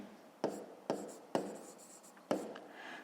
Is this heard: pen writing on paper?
yes